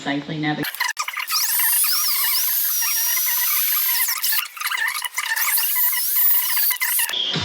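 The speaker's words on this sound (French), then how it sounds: "Pour les ouvrir une perceuse et un forêt, on fait 2 trous et on souffle dedans." A high-pitched drill whines steadily with squealing tones as it bores holes in an emu egg, close up, with brief pauses between bursts.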